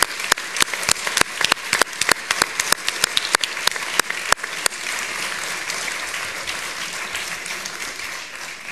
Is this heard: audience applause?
yes